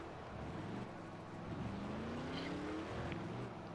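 Race cars pull out of the pits in the video game Project CARS, a faint, distant engine whine rising in pitch over a soft, steady background hum.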